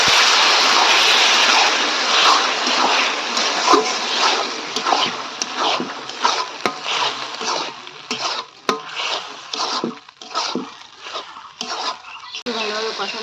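Spice paste with bay leaves sizzles and spatters in hot oil, loud and steady at first, then broken into scraping stirs and crackling bursts.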